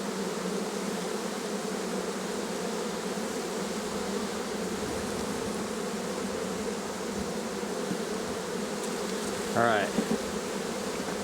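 Honeybees hum steadily around the top of a beehive box, a dense, even drone close by, with a brief spoken word near the end.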